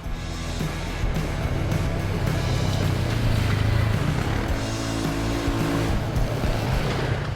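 A 2013 Polaris RZR 570 Trail Edition side-by-side drives on tight trails, its engine a loud, steady, close drone that holds throughout without a break.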